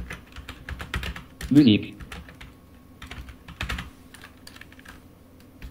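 Keys clicking on a computer keyboard while a search phrase is typed, quick irregular taps close by, with someone speaking French over part of it.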